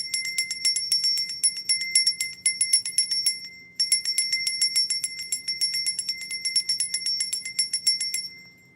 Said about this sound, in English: Let's go ahead and ring the bell because I want to get a clear energy.